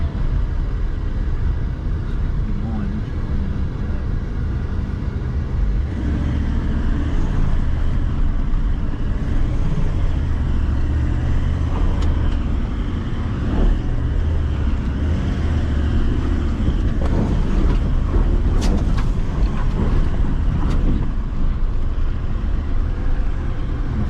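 Four-wheel drive vehicle climbing a hill on the way from Moora to Karratha, a loud constant engine drone with rumbling low end and occasional rattles and bumps throughout, heard from inside with no talking.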